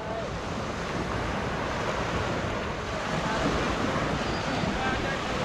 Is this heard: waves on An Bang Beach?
yes